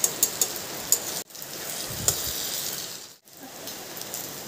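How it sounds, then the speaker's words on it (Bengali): Pointed gourd fritters frying in oil over a medium flame give a steady, even sizzle with faint clicks and crackles, broken by two brief pauses, with no talking. "এবার একদম ফ্লেমটাকে মিডিয়ামে করে এই বড়াগুলোকে আমি ভেজে নিচ্ছি।"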